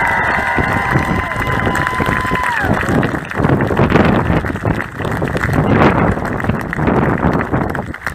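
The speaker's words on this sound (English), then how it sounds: "Just give her a round of applause for everything that she did." Applause from an audience at a political rally in Southport, a dense crackling clapping that fills the whole stretch, with a voice speaking over it at the start.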